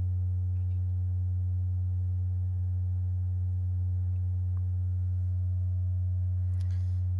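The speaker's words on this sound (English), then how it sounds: "just the sine wave of the Batumi" A steady, low sine tone from a Batumi modular synthesizer module hums continuously and unchanging, with faint clicks and a soft noise burst near the end.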